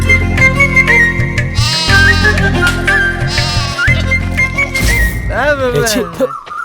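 Repeated wavering bleats of a lamb ring out loudly and close by, overlapping a droning musical background, with a final quavering cry near the end.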